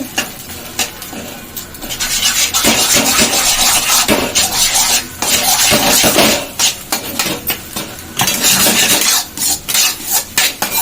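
An omelette cooks in a pan while a utensil stirs and scrapes against the metal, giving loud, irregular bursts of scraping and rubbing with brief pauses between strokes.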